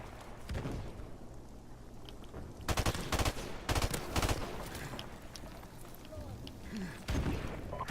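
Burst-fire gunfire in a video game shooter: several sharp clusters of rapid shots with booming impacts, loud and close, with game sounds between bursts.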